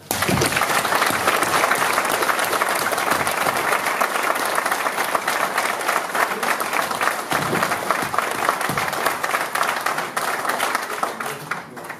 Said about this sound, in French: je vous propose une salve d'applaudissements